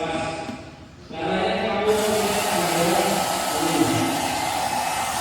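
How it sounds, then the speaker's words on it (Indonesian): A hair dryer blows steadily to heat an engine-management sensor, a loud continuous whooshing roar that starts about a second in and holds near and constant to the end. "Kemudian saya panaskan dengan hair dryer."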